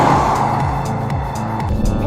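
2015 Mazda3 with manual transmission, its engine giving a steady, fairly loud growl from inside the cabin while driving, with gear-related pitch shifts along the way.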